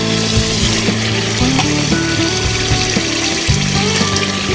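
Loud, continuous sizzling of desi chicken pieces frying in oil in a pan for a lemon-chilli Gondhoraj chicken, dense and steady with occasional clinks and stirring, no talk.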